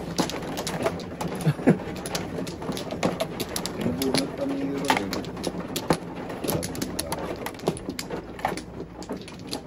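Birds, apparently pigeons or doves, coo and call intermittently in an outdoor setting while people talk and small tapping and knocking sounds come and go.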